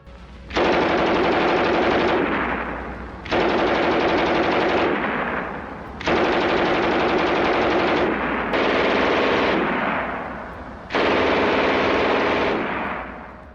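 Long, loud bursts of MG42 machine-gun fire ring out in five sustained strings of about two seconds each, separated by brief pauses, with no voices.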